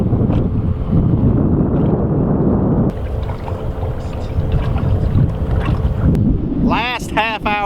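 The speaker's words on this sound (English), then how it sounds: "wind's on and off. It blows, it stops, it blows, it stops." Wind blows over a drifting fishing boat on open water during a catfish tournament, making a loud, continuous buffeting rumble across the microphone that shifts in strength and briefly eases partway through.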